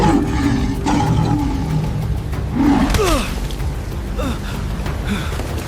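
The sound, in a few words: lioness roaring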